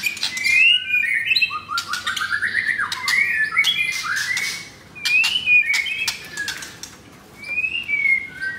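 A white-rumped shama (murai batu), a blorok F4 bird kept at a house, sings in the morning: loud, varied whistles, chirps and squawks come in bursts with short pauses.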